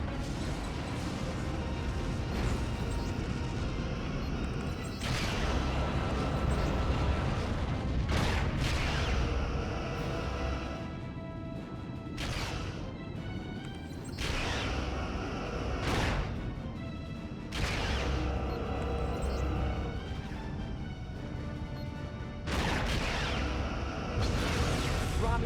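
Romulan ship blown apart by photon torpedoes in the Star Trek Legacy Xbox 360 game: repeated heavy booming blasts and whooshes over a dense, continuous battle roar, lasting throughout.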